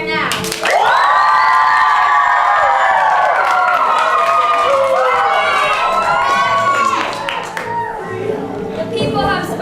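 A summer-camp theatre audience cheers loudly, a sustained roar of shouting, squealing children and some clapping that swells at once and stays strong throughout before easing slightly near the end.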